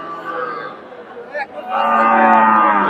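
Cattle moo loudly and repeatedly at a livestock market, long low calls close by, with a murmur of crowd chatter underneath.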